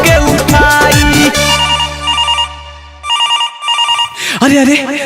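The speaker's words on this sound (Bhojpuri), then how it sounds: "केकर तो फोन अइलो" A mobile phone ringtone signals an incoming call as a loud, melodic tone pattern repeating under music and voices, with sustained low notes early on and bright chiming bursts later.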